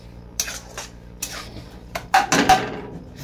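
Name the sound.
grated coconut being stirred and sautéed in a pan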